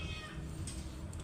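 A pet cat that has been ill gives a faint, short meow near the start, then low, muffled room noise follows.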